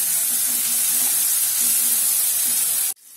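Ground spices (coriander, cumin, turmeric and chili powder with salt) fry in a pan for aloo dum. A strong, even sizzling hiss runs close and steady, then cuts off sharply near the end.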